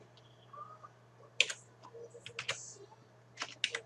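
Quick bursts of computer keyboard keystrokes, entering coordinates in CAD steel-modelling software, come in irregular clusters over a low steady hum, close and fairly quiet.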